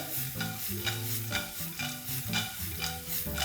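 Fried potato wedges and peanuts tossed in a hot pan, a continuous sizzle under steady rhythmic scraping and stirring strokes, loud and close with no talk.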